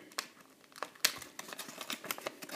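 Origami paper is folded and tucked into a pocket while a rectangular prism is shaped, giving faint crisp crinkles, light taps and small rustles in an uneven sequence, close to the microphone with no speech.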